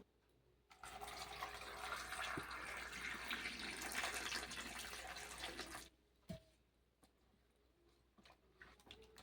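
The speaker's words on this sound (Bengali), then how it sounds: "এই তিন পিস আম আমি ভালো করে ধুয়ে নেব" Water running and splashing as three raw mangoes are washed, a continuous rushing stream for several seconds that stops abruptly, followed by faint clinks and handling sounds in a quiet room.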